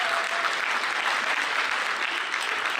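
Graduation ceremony crowd giving a standing ovation for an honoured guest at a skills academy, dense steady applause from many hands, fairly distant and even throughout.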